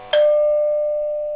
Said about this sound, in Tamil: என்னடா காலிங் பெல் அடிக்குது?